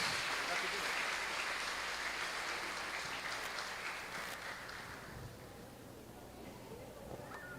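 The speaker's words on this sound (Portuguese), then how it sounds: "Aclamemos com palmas a palavra de Deus." Church congregation at a solemn novena Mass applauding the Gospel reading, a broad steady patter of many hands clapping that gradually thins and fades toward the end, with voices mixed in.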